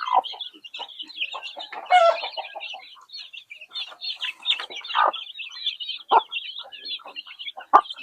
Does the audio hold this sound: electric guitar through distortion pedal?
no